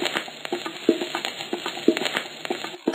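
Cartoon stovetop cooking in a kitchen: quick clinks, stirring taps and light sizzling bursts in an uneven rhythm, fairly quiet and close, without any talk.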